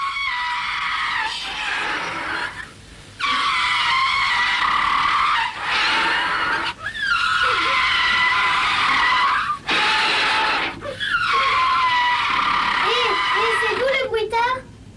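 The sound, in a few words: foley car chase with tyre skids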